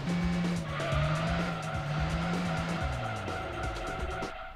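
A race car engine in Gran Turismo 2 screams at high revs near its limit, holding a steady loud whine that steps up in pitch with gear changes, with tire noise beneath it.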